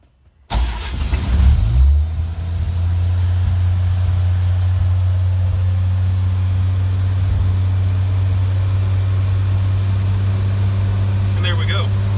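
A parked truck's engine cranks briefly, catches and settles into a loud, steady low idle that drones on close by, with a faint tick near the end.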